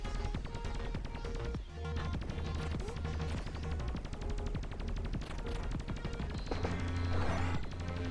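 In the video game Baseless, a primary weapon fires in rapid, rhythmic bursts at turrets, mixing crashing impacts and metallic whacks with a constant background tone.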